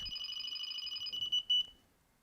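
A Delkim carp fishing bite alarm emits a rapid stream of high electronic beeps, close and clear, running for under two seconds before stopping abruptly.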